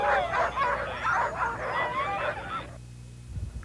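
Alaskan sled dogs yip and bark together in a dense, excited chorus of overlapping high cries for about two and a half seconds, then the noise cuts away to a quieter background.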